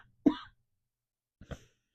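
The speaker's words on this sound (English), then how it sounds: "I'm going to cough again, excuse me." Two separate coughs from one person, a sharper, louder cough followed about a second later by a softer one, close and otherwise quiet.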